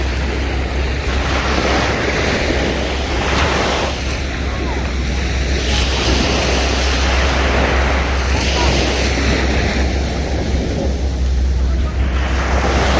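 Ocean waves surge and wash continuously around a boat near Krakatau, mixed with heavy wind buffeting the microphone and a low engine rumble underneath, loud and close throughout.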